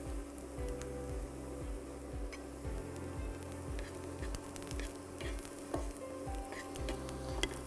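Onions sizzle steadily in a hot pan at the translucent stage as turmeric goes in, a continuous close frying hiss with a few faint clicks and no voices.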